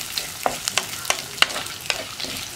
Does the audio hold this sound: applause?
no